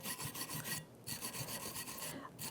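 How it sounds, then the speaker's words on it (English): Wire brush scrubbing old rust from the pad slide areas of a rear brake caliper bracket on a 2012-2018 Nissan Altima, a steady rapid rasping in repeated strokes with two brief pauses, close and alone. "with my nice little wire brush, I can get right in there where those pads are going to glide, get all that old rust out"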